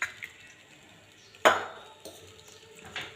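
A utensil stirs chopped dill greens in a pan for Maharashtrian-style shepu bhaji with gram flour. Faint, sparse scrapes come with a few light clinks and one sharper metallic knock midway, quiet and close.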